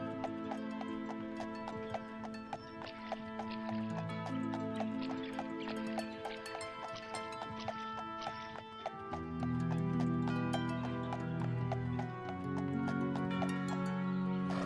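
Horse hooves clip-clopping at a steady even pace in the video game Daggerfall Unity, hoofbeats repeating close and clear over layered game music for the whole stretch.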